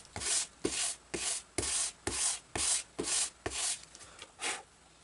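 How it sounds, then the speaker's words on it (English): A glued seam on a GreatPlanes PT-20 balsa model airplane is sanded by hand in about nine even back-and-forth strokes, each a close, raspy rub separated by brief pauses. "Sand it to get that sawdust into that"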